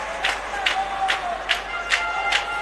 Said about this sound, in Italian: Tra gli applausi del Palasport sfuma, esce la squadra del